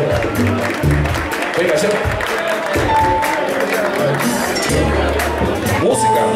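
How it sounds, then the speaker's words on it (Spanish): Applause and cheering from the audience at a live salsa club concert at Club Aché, mixed with dense crowd chatter, clinking glasses and a voice calling out over the noise. "Venga, aplauso, con los aplausos no se corta."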